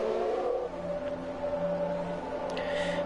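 An F1 race car engine idles on the starting grid of the Belgian Grand Prix in a racing video game, a steady low engine drone with a faint whirring tone running throughout.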